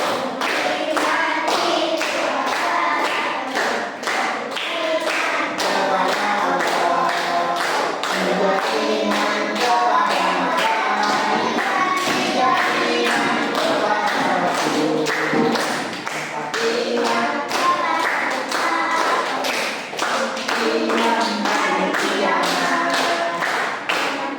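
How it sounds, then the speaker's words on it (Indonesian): A group of people, a class of students, clapping hands together in a quick, steady rhythm with sharp repeated claps throughout, loud and close, with some voices singing along underneath. "tepuk tangan semuanya"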